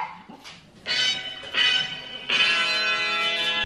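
A doorbell chimes in three sustained ringing tones, each sounding out clearly after a short pause, with a faint dog bark just before.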